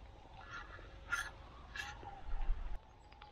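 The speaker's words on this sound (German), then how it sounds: "ziehen die Vögel Richtung Süden. Aber man hört es auf jeden Fall." Migrating birds, probably geese, call faintly in several short honking bursts from far overhead above a quiet outdoor hum on a foggy countryside hike.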